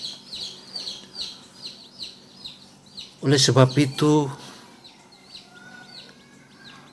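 Hens and chicks on a poultry farm cluck and cheep in quick repeated calls close by, with a voice talking over them in the middle.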